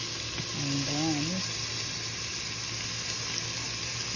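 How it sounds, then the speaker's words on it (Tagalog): Ground pork sautéing until golden brown, for stir-fried kangkong, makes a steady, close hiss and sizzle. A voice hums briefly near the start. "ginisa ko muna yung pork until ma-golden brown"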